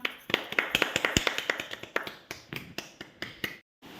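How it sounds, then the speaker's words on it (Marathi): Children in a classroom clap in a quick, uneven patter of sharp individual claps, fairly close and moderately quiet, breaking off abruptly into silence just before the end. "टाळ्या वाजवा"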